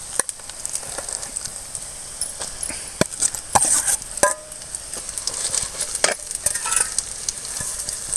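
Greens frying with onion, garlic and chili in a pan for puli keerai thokku, a steady sizzle broken by the scrape and clatter of a stirring spoon against the vessel.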